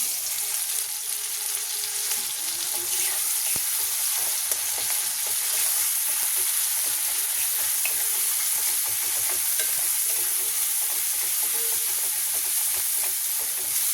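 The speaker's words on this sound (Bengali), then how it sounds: "এই যে মশলাটা একটু জল দিয়ে মেখে নিয়েছি, এবার মশলাটা দিয়ে দেবো।" Spice paste moistened with water sizzles and hisses in a pan with softened, melted tomatoes, a steady bright frying crackle with occasional stirring scrapes throughout, no voices.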